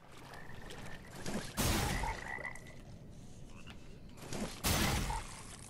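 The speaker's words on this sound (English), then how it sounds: "So there's death frogs around here." Death frogs in the dark game Mortal Shell croak in two deep, gurgling bursts a few seconds apart, loud and close, over a murky ambient background with faint chirps.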